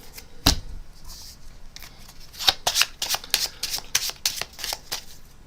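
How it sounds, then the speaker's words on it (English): Playing cards are shuffled by hand up close, giving crisp riffling bursts and soft slaps in quick, uneven succession with no talking. "be careful when you're shuffling that you don't flash the cards so that I can see them"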